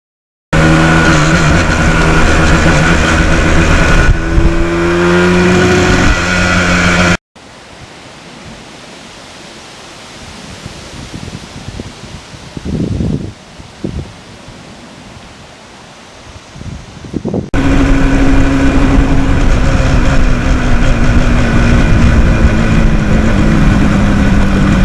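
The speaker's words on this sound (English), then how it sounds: "Now, I always enjoy going through the gears on the RD." Yamaha RD400 motorcycle engine under way in high wind, a loud buzzing two-stroke drone with rising gear pitches in the first seconds, then a long stretch of roaring wind buffeting before the engine returns loud and steady.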